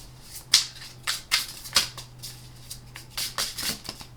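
Playing cards handled and let fall out of a deck, a run of light papery flicks and slaps spread irregularly across a few seconds, close and fairly quiet against a steady low hum.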